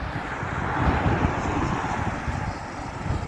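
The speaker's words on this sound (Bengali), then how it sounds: "কনকনে বাতাস" Wind blows in a steady, rushing roar close to the microphone, with no voices.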